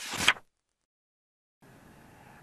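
A door opens with one short, fairly loud burst of noise at the start. Silence follows, then a faint steady room hiss.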